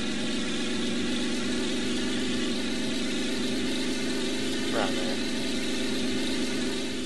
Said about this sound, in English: Now you might think this engine's a little bit rough, and it is.